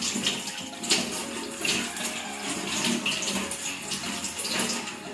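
Running tap water pours steadily into a basin during rinsing, a close, continuous splashing rush with slight fluctuations and no speech.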